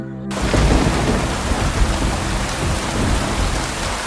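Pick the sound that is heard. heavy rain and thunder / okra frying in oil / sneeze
heavy rain and thunder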